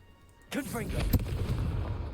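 A Confringo blasting spell going off in Hogwarts Legacy, a sudden whooshing blast with a sharp crack midway and a rumbling tail, while a voice speaks over it.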